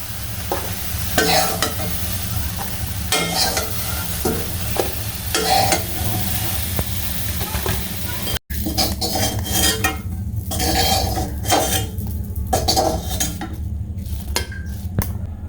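Fried soybean chunks being stirred and lifted out of a wok, giving a steady run of scraping and clinking from a metal spatula, with a frying sizzle underneath. The sound is close and continuous, and no one speaks.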